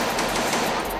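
Gunfire in the Roblox hood game, a dense rapid burst of automatic shots lasting about a second, loud and close with no talk.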